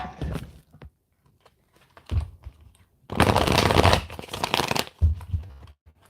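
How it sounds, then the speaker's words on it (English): Tarot cards shuffled close by, a few soft flicks and taps, then a louder, sustained riffle lasting about two seconds, followed by a final tap. "I'm going to shuffle this one time."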